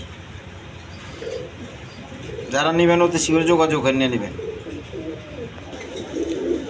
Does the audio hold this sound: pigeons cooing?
yes